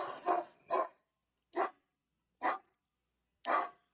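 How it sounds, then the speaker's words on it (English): A single dog barks in short sharp bursts, a quick double bark followed by three spaced single barks, close and loud over a silent background. "Sorry for my dog going nuts."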